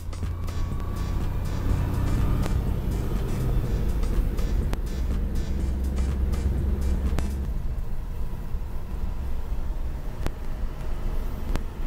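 A manual-transmission car cruises a public road in Korea in second gear, with a steady engine drone and road rumble heard from inside the cabin and a few faint clicks and bumps.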